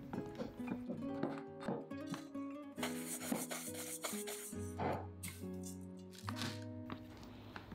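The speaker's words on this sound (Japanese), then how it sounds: "全部つけ終わったらもう一度パン粉をつけ直し、揚げやすいように平たく形を整えます。" Panko breadcrumbs rustle and rub softly as homemade Japanese-style potato croquettes are coated by hand, under steady background music.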